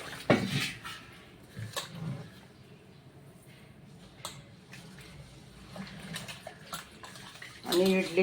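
Urad dal and rice are washed in water for idli batter, with intermittent sloshing, swirling and clinks of grains and vessel, fairly faint, while a person talks.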